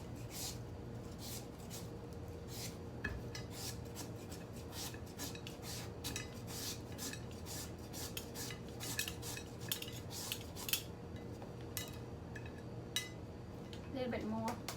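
A knife slices green papaya for Thai som tam, making repeated quiet chopping taps and clinks against a board or bowl at an uneven rhythm. The sound is faint, with soft background hum.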